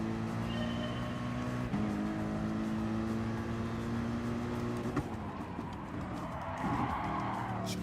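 Race car engine from Gran Turismo Sport, droning steadily at high revs with a shift around two seconds in, tires squealing and skidding as the car corners, loud and continuous throughout.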